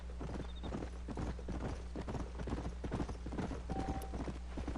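In Red Dead Redemption, horse hooves clip-clop in a steady rhythmic walking pattern, close and continuous, with game ambience underneath.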